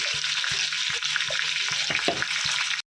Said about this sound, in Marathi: आपण इथे बारीक चिरलेला कांदा टाकणार आहोत